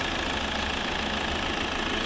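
A 2014 Volvo V70 2.0-litre four-cylinder diesel engine idles with a steady, even rumble and a faint rhythmic knock, heard close up with no voices.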